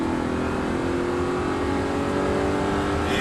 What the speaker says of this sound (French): On accélère à fond maintenant.